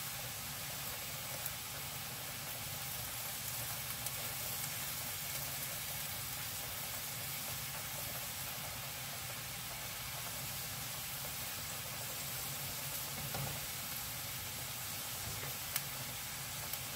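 Food frying in a pan over a medium-high flame, giving a steady, even sizzle and hiss that stays constant throughout with no talking.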